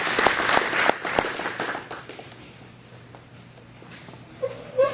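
Applause for Tony Blanchard at the RACE 101 inaugural 2010 graduation and awards ceremony, a crowd's clapping strong at first and dying out within about two seconds, leaving quiet room tone.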